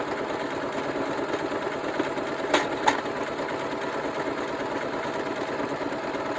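A sewing machine stitches in a steady, continuous mechanical whir, sounding strained and unhealthy, with two brief sharp knocks breaking through midway.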